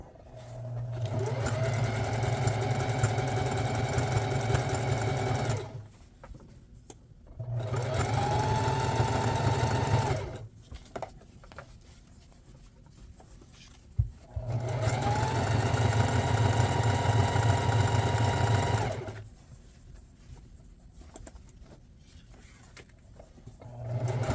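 An industrial sewing machine stitches a nameplate onto a black Adidas jersey, whirring in three long steady runs with pauses between, close and loud with a humming motor drone and rapid needle chatter.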